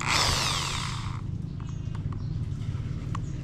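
An electric drill bores a hole through the valve of an airgun foot pump. A loud, high whine rises for about a second, then settles into a quieter, rough motor hum close by.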